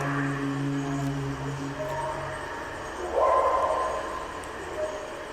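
A dog barks and yips a few times at a distance, with faint whimpering and low background noise between the calls.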